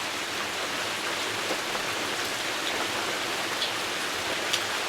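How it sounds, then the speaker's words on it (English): Steady rain falls through a rainy night outdoors, a dense, even hiss without pause that runs the whole time at moderate level, with no voices over it. "the rain picked up again"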